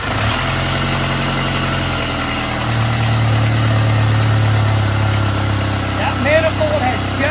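Jeep TJ with a slight exhaust manifold leak starts and settles into a loud, steady idle, a close continuous rumble with a voice speaking over it.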